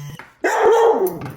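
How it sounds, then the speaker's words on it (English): A pet dog lets out a single loud, close bark, drawn out into a short yelping whine, preceded by a brief faint sound and followed by a small trailing yip. "my dog freaks out and barks at me every time I sneeze"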